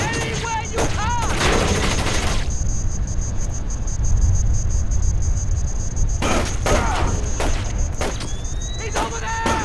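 Gunfire in Splinter Cell: Chaos Theory comes as loud, dense bursts of shots over a harsh, noisy roar. There are a few brief pauses and some short voice-like sounds between the volleys.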